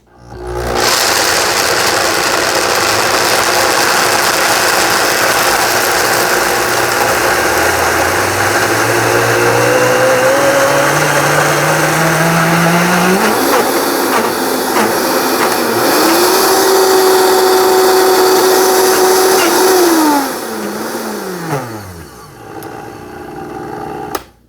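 A Vitamix blender grinds peanuts into peanut butter, its motor whine climbing steadily as it ramps toward the highest setting, straining loudly and alone, then winding down near the end.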